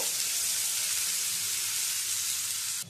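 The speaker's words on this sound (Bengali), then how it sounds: "সর্ষের তেলটা ভালো করে গরম করে নিয়ে এবারে এর মধ্যে দিয়ে দেবো পেঁয়াজ কুচি।" Finely chopped onion hits hot mustard oil in a pan and sets off a loud, dense, continuous sizzle that holds steady for a few seconds and then cuts off abruptly. There is no talking.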